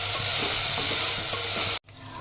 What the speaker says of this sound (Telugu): ఇవి మెత్తగా ఉడికేంత వరకు ఫ్రై చేసుకోవాలి.